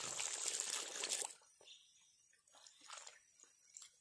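Water is poured from a container over punctured sacks, about two liters to each sack, with a splashing gush at first, then faint trickles and drips.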